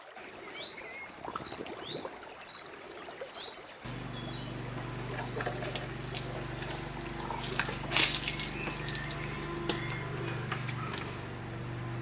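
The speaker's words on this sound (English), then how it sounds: "We'll take a couple of samples of the water to look at when we get back." River water from a fast-flowing section is scooped for samples, a steady close splashing and gurgling that starts abruptly partway through, preceded by outdoor ambience with birds chirping.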